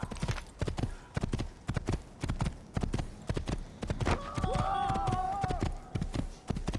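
Horse hooves clip-clop in a steady galloping rhythm in the Assassin's Creed video game, close and prominent, with a brief whinny in the middle.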